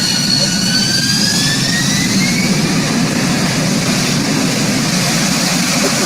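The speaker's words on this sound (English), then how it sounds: "What I just showed you was a vertical takeoff." Jet aircraft engines roar loud and steady throughout a vertical takeoff, a dense continuous rumble with a rising whine layered on top.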